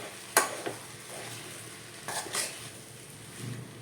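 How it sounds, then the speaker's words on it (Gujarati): Sago and potato mixture stirred in a pan, a few sharp spoon knocks and soft scraping strokes close by, with faint sizzling between them. "બધું બરાબર મિક્સ કરી દઈશું"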